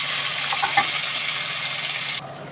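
Onion, ginger and garlic paste fries in a pan for chicken curry, a steady close hiss of sizzling oil with a faint clink near the start, easing slightly at the end.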